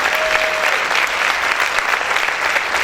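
Church congregation applauding loudly during a worship service, a dense, steady wash of clapping that fills the whole moment without a break.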